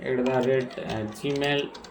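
An email address is typed on a computer keyboard, with quick key clicks running under steady close-up talking.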